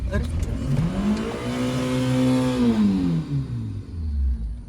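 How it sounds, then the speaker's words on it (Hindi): A car engine revs as a learner driver presses the accelerator, climbing in pitch, holding a loud roar, then falling back, heard close from inside the car over a few seconds. "मना किया था ना एक्सीलेटर पे पैर रखने के लिए।"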